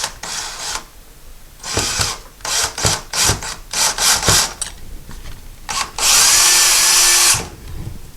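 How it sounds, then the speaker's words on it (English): A power screwdriver drives screws into blind mounting brackets, whirring in short, repeated close bursts with brief pauses between them, ending in one longer, louder sustained run. "we do have the screwdriver, so we're going to use it"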